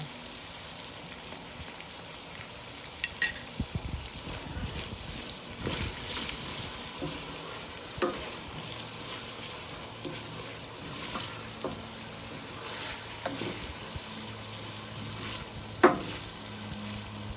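Garlic stirred and frying in a pan while cooking dinuguan, a soft steady sizzle broken by occasional spoon scrapes and clinks, with no one talking.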